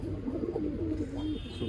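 Old line pigeons offered for sale in Bangalore coo in a low, rolling, wavering tone, close by and steady against a busy background hum.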